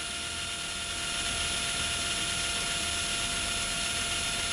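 A grey JLD impact wrench runs at its lowest speed, around 420 RPM, giving a steady, loud, continuous whine and hum with a high tonal edge that holds unchanged throughout, close to the listener.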